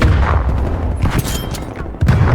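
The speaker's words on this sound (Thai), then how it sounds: "ต้องปาระเบิดกันตลอดเลยทำไมวะ" Loud, rumbling grenade blasts and booms in a Prop Hunt video game, with deep low thuds and a sharp explosion near the end.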